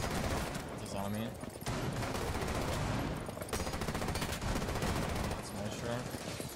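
Rapid bursts of gunfire in a zombie video game, dense and continuous shots filling the clip with brief gaps, layered with game sounds and a voice talking underneath.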